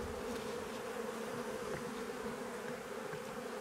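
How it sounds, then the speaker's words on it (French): Honeybees hum around a hive in early spring as the plastic covers come off, a continuous, even, fairly soft drone with no voices. "On voit quelques abeilles, je sais pas si on va les voir."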